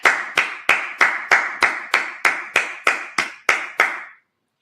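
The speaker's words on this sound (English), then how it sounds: "Just clap it up." Congregation at a church Sabbath service clapping hands together in unison, about a dozen sharp, evenly spaced claps in a steady rhythm, loud and close, then stopping.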